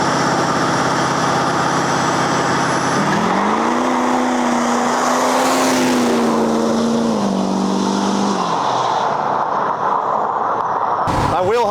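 Homemade diesel car accelerating hard through a 0-60 run, its loud engine note climbing steadily through gears with shift dips, tire noise underneath, then dropping away near the end with a sharp knock.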